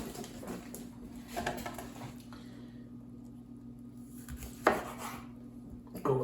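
A knife slicing Roma tomatoes from the market on a cutting board, a handful of soft, separate thuds and taps against the board spread over several seconds, close but quiet beneath a steady background hum, with no talk.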